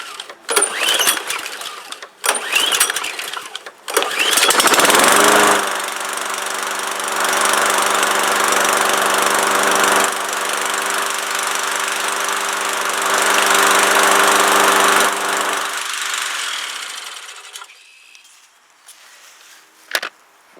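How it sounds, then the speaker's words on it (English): A lawnmower is pulled a few times with short rough bursts, then the engine catches and runs at a loud, steady drone close by for about twelve seconds before cutting out, with no talking. "See if the lawnmower will fire up."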